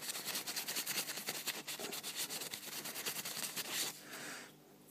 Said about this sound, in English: Just put some on here, give it a good rub. You want to get that copper surface as clean as possible.